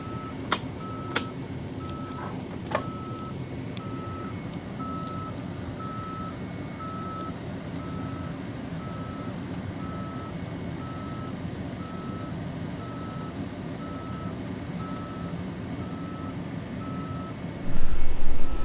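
A boat's alarm beeps steadily in evenly spaced, sustained tones over constant engine or machinery noise, continuing for most of the stretch before a louder burst of noise at the end.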